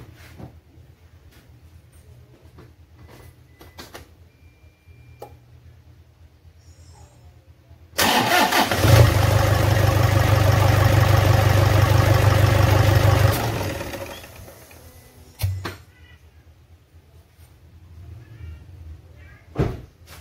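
A diesel engine cranks and catches, running loudly for about five seconds before shutting off abruptly, with quiet clicks and handling noises before and after in a workshop setting.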